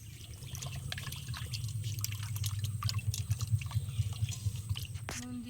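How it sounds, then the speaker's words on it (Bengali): Raw chicken pieces being rinsed by hand with water outdoors in a village garden, a steady wet trickling and sloshing with scattered drips, fairly close, over a low rumbling background. "মাংসটা একটু ধুয়ে নেব।"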